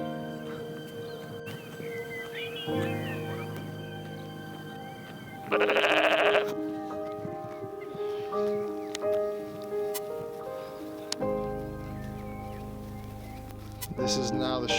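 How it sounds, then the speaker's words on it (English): Sheep bleating at an outdoor sacred site, several wavering calls standing out over a quiet background with a steady tonal hum, plus one brief louder burst midway. "And the sheep help. Look at those little dudes."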